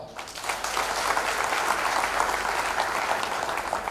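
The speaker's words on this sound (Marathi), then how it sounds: "सोमा कोऱ्हाडे यांच्यासाठी एकदा टाळ्या वाजवा" Sustained applause from a crowd at a public political rally in Nashik, dense steady clapping from many hands filling the space at a fairly close distance with no clear speech over it.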